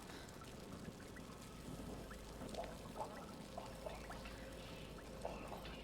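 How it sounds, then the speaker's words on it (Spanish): Flowing water in the video game Hellblade, a steady broadband wash of trickling and pouring with faint droplet-like ticks scattered through it, continuous and moderately quiet with no speech. "Aquí se oye agua."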